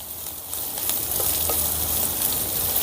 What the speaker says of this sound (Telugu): ఉల్లిపాయ ముక్కల్ని లేత బంగారు వర్ణం వచ్చేంత వరకు ఫ్రై చేసుకుందాం